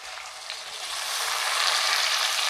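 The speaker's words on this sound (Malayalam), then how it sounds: "തേനില്ലാതെ നമുക്ക് നെയ്യിലോട്ട് ഇട്ട് കൊടുക്കാം." Bitter gourd frying in hot ghee, a steady close hiss of bright sizzling that builds slightly louder and continues without pause, with no voices.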